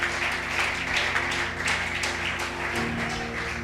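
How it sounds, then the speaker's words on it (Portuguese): A church congregation at a youth service keeps up a steady, moderately loud round of applause, many hands clapping together as a continuous patter. "Pode aplaudir ao Senhor, irmão, pode aplaudir, é tudo para Ele."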